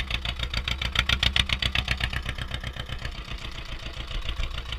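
Ursus C-330 tractor engine running with a loud exhaust, a rapid steady chugging pulse heard up close and continuous throughout, with no talking.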